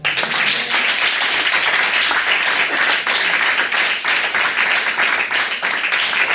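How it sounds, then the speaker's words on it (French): A church congregation applauds the Lord, with dense, sustained clapping from many hands filling the room, loud and continuous throughout. "On acclame le Seigneur."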